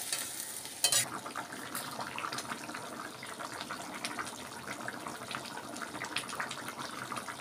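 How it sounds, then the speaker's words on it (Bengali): Rice in a pot bubbling with water, a steady dense simmering hiss with soft bubbling pops and a brief clink near the start, continuous and fairly close. "দেখছো কেমন ফুটছে?"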